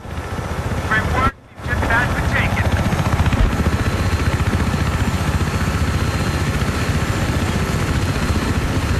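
A helicopter in the video game Battlefield 3 flies with a steady loud rotor chop and engine drone throughout, briefly cut out once, with faint radio-style voices underneath.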